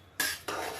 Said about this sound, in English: Stirring it all in,